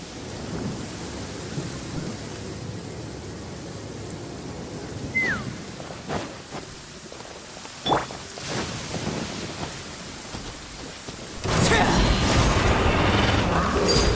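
Video game rain and thunder: a constant patter of rainfall with a few sharp thunder cracks in the middle, then a louder, heavier burst of storm noise near the end.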